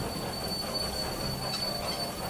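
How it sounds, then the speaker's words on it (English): A steam engine's wheels slip and spin as she struggles up a steep gradient. The result is a steady, loud grinding hiss with a thin high-pitched squeal running through it, heard alone. "the steep gradient caused her wheels to start slipping"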